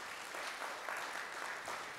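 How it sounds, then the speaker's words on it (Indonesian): A church congregation applauds, with steady, dense clapping from many hands that continues evenly throughout, moderately loud and without any talk. "Yang setuju kasih tepuk tangan bagi dia."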